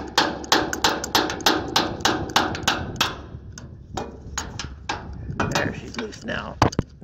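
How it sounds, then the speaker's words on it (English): A hammer rings on metal parts of a combine harvester in quick bursts of sharp taps, sometimes a dozen in a row, close and loud. Short pauses and rustling fall between the bursts. "I should have a hammer."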